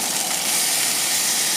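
Liquid poured into a hot pan at a truck campsite gives off a loud, close, steady sizzle, a broad hiss that holds evenly for the whole moment with no voices.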